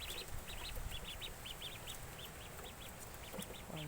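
Ducks quacking repeatedly in a steady run of short calls at a farmyard duck pen, under a constant noisy background hum, with no one talking.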